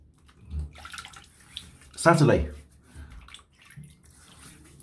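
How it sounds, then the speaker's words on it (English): Water is splashed onto the face by hand during a wet shave at a bathroom sink, a short close splashing burst among softer trickles, with someone talking quietly around it. "I'm just splashing water in the eye there, and the left eyeball."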